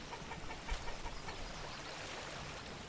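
Chickens cluck softly among ambient farm sounds in the medieval village-building game Manor Lords. The scattered clucks are faint and distant, with a few slightly louder peaks early on.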